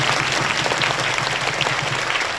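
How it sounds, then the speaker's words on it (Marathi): Dense, continuous applause from an audience at a kirtan gathering, loud and steady throughout with no talking over it. "टाळ्या वाजवा लागते"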